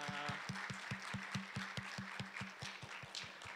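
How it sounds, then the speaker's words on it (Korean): Faint applause from a Korean church young-adults congregation in Atlanta thanking a pastor after a sermon, steady rhythmic clapping heard at a distance and evenly paced throughout. "큰 박수로 우리 감사하겠습니다"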